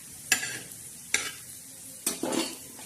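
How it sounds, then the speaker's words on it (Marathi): Whole spices roasting in a hot pan, three sharp scraping strokes of a spatula at roughly one-second intervals over a soft, steady background sizzle, close and fairly quiet. "खडा मसाला बी असा छान असा भाजून घ्यायचा."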